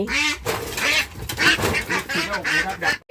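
Ducks quack loudly and continuously in a flurry of overlapping calls, close by and agitated as they are caught one by one, with a brief pause near the end.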